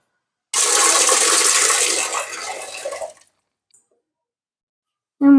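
Running water splashes loudly for about two and a half seconds as onions, garlic and green chillies are washed for a village-style spinach curry, then tapers to trickles and falls silent.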